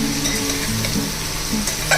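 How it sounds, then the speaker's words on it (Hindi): Jackfruit pieces fry in a pan with salt, turmeric and chili powder, giving a steady close sizzle with soft stirring scrapes and no talking. "जब तक कटहल भून रहा है"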